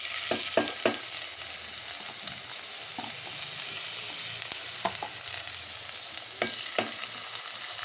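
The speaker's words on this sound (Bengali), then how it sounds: "এবার আমি পেঁয়াজ একটু কুচি করেছি এইখানে আর একটু লঙ্কা এগুলো সব দিয়ে দিচ্ছি" Chopped onion and green chilli hit hot oil while cooking hilsa biryani. A constant sizzle runs throughout, broken by several sharp clinks and scrapes of a spatula against the pan, close up and with no one speaking.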